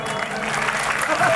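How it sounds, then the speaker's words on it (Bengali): An audience at a live Bengali folk music concert claps hands in a steady, dense burst of applause, fairly close and evenly loud throughout. "দেখি তো আপনার হাততালি জানতে পারবো"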